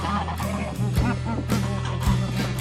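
A flock of geese honks loudly and repeatedly at close range, with harsh overlapping calls, as the birds gang up on a hen in a farmyard.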